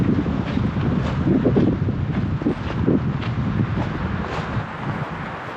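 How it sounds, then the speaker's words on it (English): Strong wind roars and buffets the microphone continuously on a wilderness trail in the Chiricahua Mountains, a heavy low rumble with gusting swells throughout. "Just got really windy."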